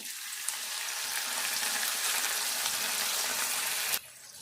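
Spring onion stalks fry in a hot pan as the base for an egg curry, a loud, even sizzle that carries on for several seconds before dropping off sharply, with no talking.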